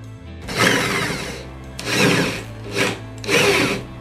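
An electric drill runs in three short bursts, each whirring loudly for about a second, with a low hum in the pauses between, while working on a Pegasus overlock sewing machine.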